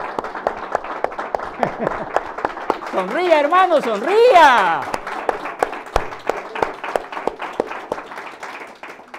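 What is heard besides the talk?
congregation applauding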